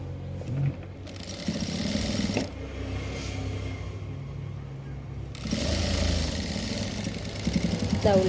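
A sewing machine stitches folded-over fabric in two runs of steady motor whirring, separated by a quieter pause.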